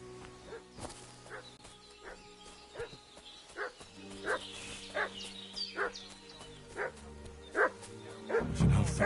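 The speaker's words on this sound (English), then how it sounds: "What's that dog making such a fuss about?" A dog in Kingdom Come Deliverance 2 barks in a regular series of sharp yaps, about one each second, at moderate distance over quiet background ambience, and a brief rustle follows at the end.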